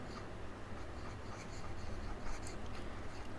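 Chalk or marker writing on a board during a chemistry lecture on atomic radius, a continuous close scratchy rubbing with small strokes and taps, steady in level.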